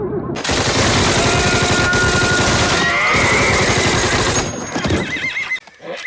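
Horses whinny loudly amid a chaotic din of rapid gunfire and hooves in a war drama battle scene, the noise easing near the end.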